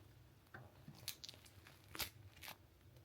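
Crunchy German bread with cheese inside being bitten and chewed up close, a few quiet crisp crunches and crackles spread across a few seconds with no talking.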